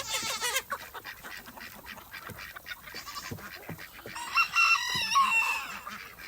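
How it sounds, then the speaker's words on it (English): Chickens and a rooster on a family farm during evening chores: steady clucking and fowl chatter throughout, with a rooster crowing toward the end, fairly near. "Let's go feed the chickens"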